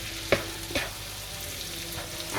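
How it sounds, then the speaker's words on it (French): A sauce simmers and fries in a pan while a spoon stirs it. A steady soft sizzle runs under two sharp utensil knocks near the start and a few fainter scrapes later, with no talking. "On mélange bien. Il faut bien laisser cuire."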